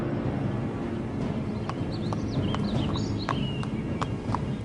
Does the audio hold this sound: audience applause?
no